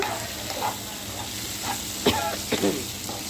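Ivy gourd poriyal stir-frying in a pan gives a steady close sizzle, broken by a few soft scrapes and knocks of stirring.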